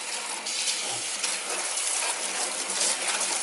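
Water running from a tap through several semi-hydroponic potted plants sitting together in a sink, a steady close rushing flush with a brief low knock early on.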